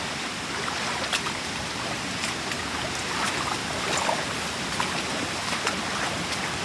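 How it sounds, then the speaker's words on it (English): A fast, violent river rushes and splashes against side walls built into its channel, producing a steady, dense roar of turbulent water with occasional sharper splashes close by. "the water hits these side walls and even hits this wall"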